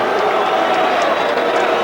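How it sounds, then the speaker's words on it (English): A boxing arena crowd boos after a Julio Cesar Chavez title bout, a dense, loud, continuous roar of many voices filling the hall. "the crowd is booing Julio Cesar Chavez"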